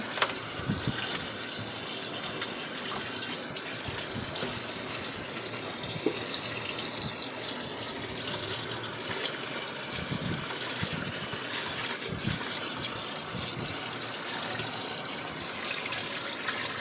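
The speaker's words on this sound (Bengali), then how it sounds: "তাই আমি এগুলোকে একটু পানি দিয়ে ছাড়িয়ে নিতেছি" Tap water gushes steadily for the whole stretch, splashing over food in a sink, close and continuous, with no talking.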